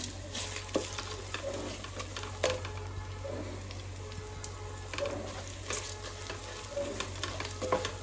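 Onion masala with garam masala frying in a pan for chicken biryani, a soft steady sizzle with occasional scraping stirs, close and fairly quiet, with no talking.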